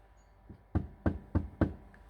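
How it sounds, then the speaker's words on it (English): Four evenly spaced knocks land on a house's front door at night, heard from inside, fairly faint and quiet with a soft lead-in tap before them. "we got this strangest knock in the front door."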